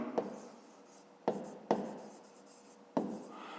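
Pen strokes on paper while working a Ukrainian fifth-grade maths exercise, four short scratchy bursts spaced unevenly, close and quiet, with no voices.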